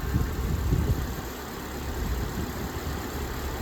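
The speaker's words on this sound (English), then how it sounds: "So it's idling fine, but obviously the engine is still heating up" A Suzuki Jimny engine, still warming up after an erratic-idle fault was fixed, idles steadily with a low, even rumble that holds constant throughout, no voices.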